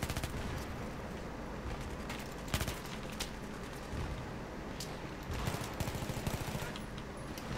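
MTAR-21 rifle gunfire in the Battlefield 3 video game, a dense, continuous crackle of rapid automatic shots and distant battle noise, fairly quiet and steady throughout.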